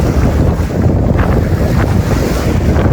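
Strong 65 mph wind buffeting the microphone beside a lake at Jurassic Lake, with loud continuous roaring gusts and rolling waves.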